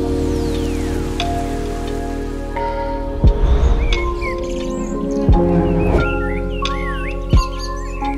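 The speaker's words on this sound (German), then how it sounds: "der Regen draußen ist so stark" Steady rain patters outside with a low hum underneath, while birds chirp and tweet intermittently and a few sharp knocks sound close by.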